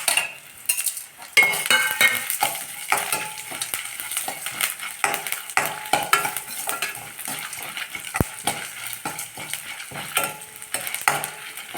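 Chana dal, urad dal, coriander seeds and dried chillies roasting in a pan: dry rattling and scraping as a spoon stirs them, with irregular clinks of utensil on metal, close and moderately loud.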